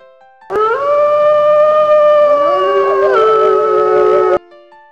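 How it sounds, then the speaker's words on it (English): A wolf gives one long, loud, clear howl that bends slightly in pitch partway through and lasts about four seconds before cutting off. "wolf,"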